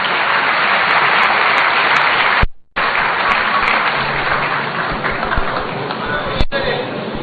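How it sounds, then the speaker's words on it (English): A crowd applauds loudly at a public gathering with Ghana's President Mahama in the Volta Region, a thick, close clapping roar broken by one brief silent gap before it resumes. "Shall we welcome him with a round of applause"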